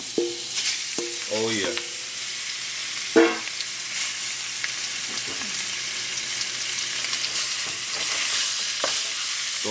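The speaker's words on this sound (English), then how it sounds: "Add your pork. Listen for that sizzle." Pork hits hot oil in a pan and crackles into a steady hiss, with the clatter of stirring and a brief spoken remark over the frying.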